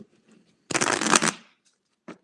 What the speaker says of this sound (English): I put them in, and then I shuffle.